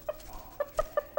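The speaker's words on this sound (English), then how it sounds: "He's small for a rooster, isn't he? He's a bantam." Small bantam rooster with white, gray and maroon feathers clucking on a farm: a handful of short, close, fairly quiet clucks in an uneven rhythm, with no voices.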